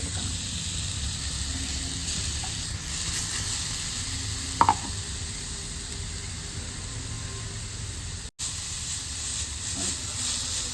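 Ginger fries in a tablespoon of oil for Kerala inji curry, a steady close sizzle and hiss that runs throughout, broken by a soft stirring clink and one brief dropout.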